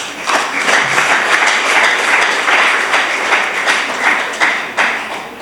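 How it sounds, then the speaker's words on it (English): A crowd applauds continuously, loud and close, the clapping swelling and easing in waves, at a primary school event. "I want us to give Chigo Prisons a hand clap."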